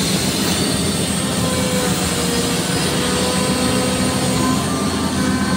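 A Volvo excavator with a slow-moving boom runs as heavy mining equipment, giving a loud, steady engine and hydraulic drone with a constant mechanical hum throughout.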